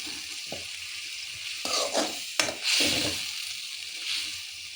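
Ridge gourd palya cooks in a pan with coriander and curry leaves, a soft continuous sizzle broken by a few louder stirring scrapes and clatters in the middle, with no one talking.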